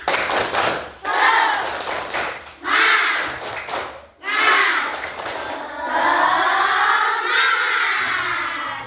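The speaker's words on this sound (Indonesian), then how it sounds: "Coba untuk memulai kita tepuk semangat dulu ya." A class of children performs the tepuk semangat clapping chant, bursts of rhythmic group clapping alternating with loud shouted chant lines, then a sustained group cry at the end.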